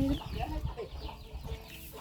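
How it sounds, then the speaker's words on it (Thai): Fighting-breed chickens cluck and murmur softly in the background on a Thai farm, a low continuous farmyard chatter with no clear crowing. "อยากเห็นไก่ชนตีกัน"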